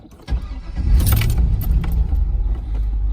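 A 2003 Chevrolet Corvette Z06 with 41,000 miles, already warm from a drive, is started up close: a brief key jingle, then the engine cranks and catches into a loud, steady rumbling idle.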